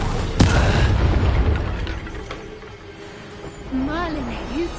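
A sharp blast from the Confringo spell in Hogwarts Legacy, a sudden loud boom followed by rumbling, with a voice speaking over the tail and background game sounds.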